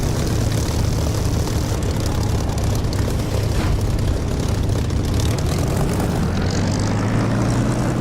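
A propeller aircraft in the DCS flight simulator drones steadily through a landing, a loud, even engine hum and propeller buzz with no break and no voices.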